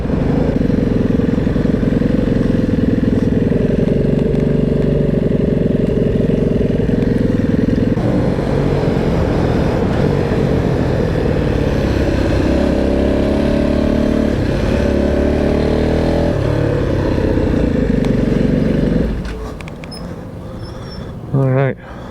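A rusty motorcycle on a ride revs hard and high, a loud, close, continuous engine roar with rising and falling pitch for most of the stretch, then cutting off near the end to quieter clatter.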